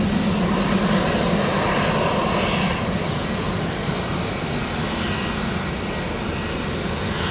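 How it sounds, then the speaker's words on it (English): Boeing 757 jet in .com livery lining up on the runway at Manchester airport, engines giving a loud, even, close rumbling roar with no talk. "757 in the .com livery, just lining up behind me."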